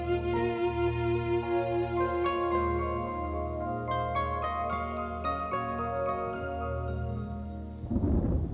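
Steady rain falls through the whole stretch, heard beneath a sustained, melodic music bed, with a brief louder rush of noise near the end.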